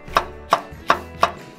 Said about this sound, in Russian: Возьму один болгарский перец